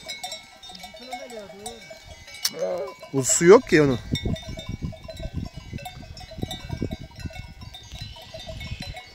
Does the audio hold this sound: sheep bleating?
yes